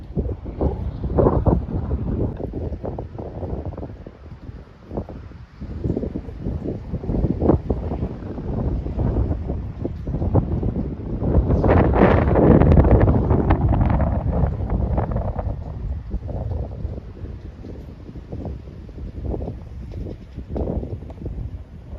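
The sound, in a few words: strong wind and wind noise on the microphone outdoors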